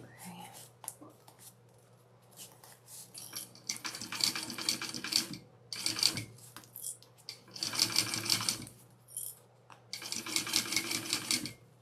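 Sewing machine stitching the Rowena handbag, running in several bursts of steady rapid stitching separated by short pauses, close and fairly loud over a constant low hum.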